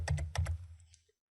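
A few quick keystrokes on a computer keyboard tap out a short burst, close and quiet, then stop into silence.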